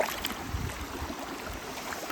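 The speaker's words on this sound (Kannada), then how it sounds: "ಆ ಕಡೆಯಿಂದ ನೀರು ಹರ್ಕೊಂಡು ಹೀಗೆ ಬಂದು ಹೀಗೆ ಹೋಗಿದೆ." Cold stream water at a trail crossing near Agumbe on the way to Narasimha Parvatha runs in a steady, rushing flow, close and continuous, with some wind buffeting and no talk.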